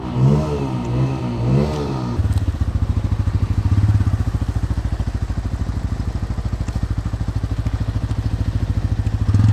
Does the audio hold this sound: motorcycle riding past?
yes